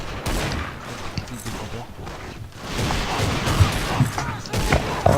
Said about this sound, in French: les gens là qui tirent au pistolet